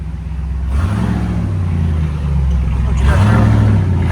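A RAM 2500 truck with a 6.4L V8 idles with a deep, loud exhaust rumble, then is blipped twice, the pitch climbing briefly each time before easing back, close by with possible faint voices.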